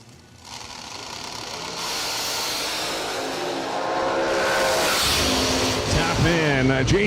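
A drag racing blower car launches down the track, its engine roaring and building in a rising whine that grows louder and sustained, while an announcer talks over the noise near the end.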